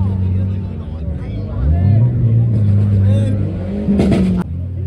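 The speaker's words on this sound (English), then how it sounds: "I don't know what car this is two stepping." A car two-stepping on launch control at a crowded car meet, its engine held at high revs with sharp popping and crackling bursts, loud and close, while a crowd murmurs and people talk nearby.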